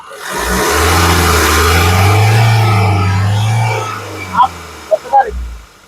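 A 2015 Mahindra XUV500 W8 engine revs up in a long rising-and-falling surge, loud and close, then settles as a few short clicks and thumps follow.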